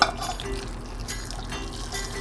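Just-simmering water poured from a cup onto tamarind pulp in a kitchen, a short close liquid pour with a faint glassy clink at the start, no talking.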